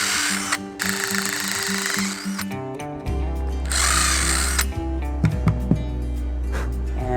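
A power drill boring out old dowel holes in a wooden dining chair whines in two strong bursts, then drops to a steady low motor hum with a few short clicks and catches.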